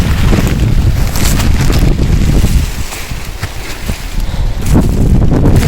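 Strong outdoor wind buffets the microphone in a garden with rain about, a loud continuous roar and rumble that dips briefly in the middle before surging back.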